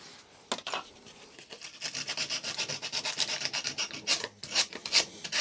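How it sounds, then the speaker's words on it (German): Rhythmic sanding strokes rasp against a black padouk wooden knife handle, starting sparse then settling into a quick, steady back-and-forth scrubbing close up. "Jetzt noch ein bisschen schleifen."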